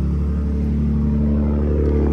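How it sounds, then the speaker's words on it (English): A deep, steady exhaust rumble at idle from a 2024 Ford F-150 Raptor pickup in sport mode with the exhaust opened, loud and close, with a low throaty drone and no talking. "Let me go to like sport real quick and that opens up the exhaust."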